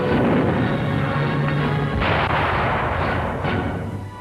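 A weapon fires repeatedly in a 1944 German newsreel, heavy booming reports rolling over a dense rumbling roar, loud and continuous with no voices.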